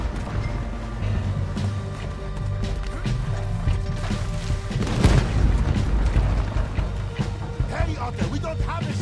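Cannon fire in Red Dead Redemption 2 booms out in a heavy, loud blast midway through, amid ongoing gunfire, splashing and battle noise, with people shouting over it.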